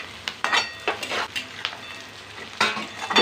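Capsicum and onion fry in a hot pan while being stirred, giving a close sizzling hiss broken by repeated scraping strokes and soft clinks of a utensil against the pan.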